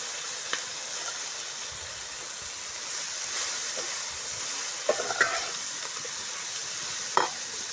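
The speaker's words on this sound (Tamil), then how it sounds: "எல்லாம் நல்லா வதக்கி வச்சு அடுத்தது கீரையை சேர்த்துக்கிறது. மணத்தக்காளி கீரை" Black nightshade greens (manathakkali keerai) sauté in oil in a pan, giving a faint, even sizzle with a few soft stirring taps and scrapes, quiet and without talk.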